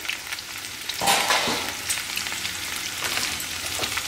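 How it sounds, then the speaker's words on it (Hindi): Mixed vegetables sizzle steadily on a hot tawa, a close crackling fry with occasional scraping stirs breaking through the hiss. "और अब हमारी वेजिटेबल्स भी हो गई हैं यहाँ पे सॉटे।"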